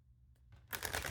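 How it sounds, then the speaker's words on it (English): A deck of oracle cards is shuffled once, a quiet stretch giving way to a dense burst of riffling card noise that fills the last part, close by with no talking. "One more shuffle."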